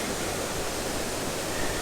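A Thai waterfall roars in a steady, dense, close rush of falling water that stays even throughout, with no voices.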